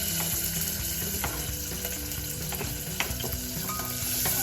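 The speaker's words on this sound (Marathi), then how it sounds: "आता मी थोडं हे पिंक होऊस तोपर्यंत भाजून घेते. गॅस माझा मीडियमच आहे." Onion and curry leaves frying in a pan on medium gas for rajma, a dense continuous sizzle with scraping stirs and small crackles, close and steady throughout.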